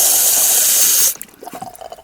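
Water gushes loudly from a garden hose into a 1977 Corvette engine, a steady close hiss for about a second before it cuts off into scattered drips and gurgles.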